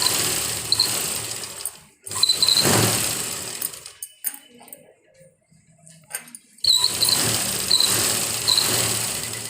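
A sewing machine double-stitches the crotch piece of ready-made trousers, running in loud, steady whirring bursts that break off into a quieter pause with light handling noises before the stitching starts again.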